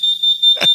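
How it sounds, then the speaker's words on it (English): A steady high-pitched electronic alarm tone pulses loudly inside a radio studio, broken into short beeps, with a brief thump near the end. "We got alarms going off in here."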